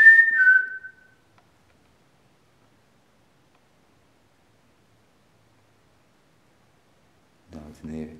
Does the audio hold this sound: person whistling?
yes